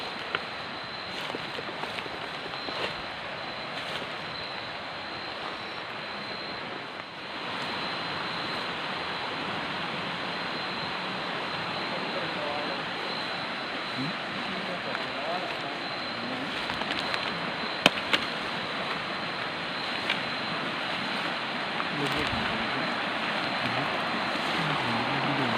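Heavy surf at high tide, a steady broadband roar of ocean waves with wind rushing over it, continuous and fairly loud for the whole stretch with no talk.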